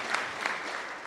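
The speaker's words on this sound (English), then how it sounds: "she deserves a big round of applause" Brief applause at an evening school governing board meeting, a short, fairly soft burst of clapping from a seated audience with no voices over it.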